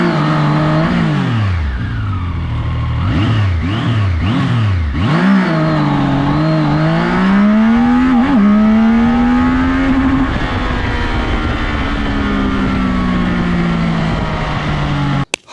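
A Zontes 703F motorcycle engine revs hard through several rising gear pulls during a launch test, then holds a long steady high drone; loud and close throughout, with no talking.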